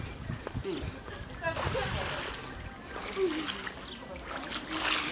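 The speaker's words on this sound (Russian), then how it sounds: "смотрите, как они тут плескаются" People splashing in an outdoor backyard swimming pool in Spain, with irregular nearby sloshes and splatters of water rising and falling over about five seconds while voices talk in the background.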